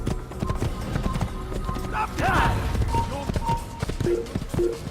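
Horse hooves clip-clop at a steady gallop in the Assassin's Creed video game, rhythmic and close, with speech running over them.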